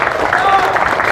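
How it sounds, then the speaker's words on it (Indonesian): A brief burst of audience clapping for the village head at a Maulid Nabi religious gathering in Medan, dense and close, lasting only about a second. "Tepuk tangan sama lurah kita."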